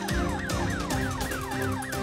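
An ambulance siren sounds on its way in, a repeating rising-and-falling electronic wail cycling about every half second at moderate distance, with no talk.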